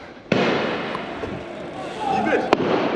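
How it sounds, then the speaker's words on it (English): Fireworks go off outdoors during a Halloween night ride-out, with a sharp bang followed by a sustained crackling roar and a second sharp crack near the end, and people talking over it. "A man dashed a firework and it nearly hit"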